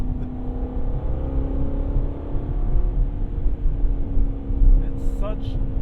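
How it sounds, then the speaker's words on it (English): High-revving V8 of a Chevrolet Corvette C6 Z06, a loud steady engine drone heard from inside the cabin, holding a continuous tone with slight swells, while people talk over it. "It's such a high rev V8"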